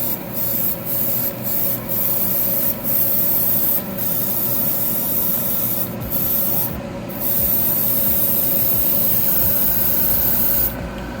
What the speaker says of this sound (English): I do spray around the edges and I get those pretty good